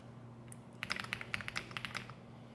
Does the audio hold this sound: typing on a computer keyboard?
yes